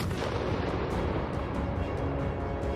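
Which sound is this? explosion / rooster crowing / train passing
explosion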